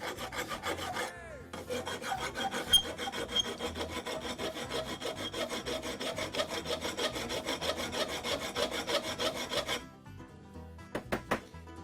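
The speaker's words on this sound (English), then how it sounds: "So we're filing good." Metal parts are filed by hand during a CNC router build, a fast rhythmic rasp of quick strokes that keeps going for several seconds close up, then stops and leaves a few light clicks.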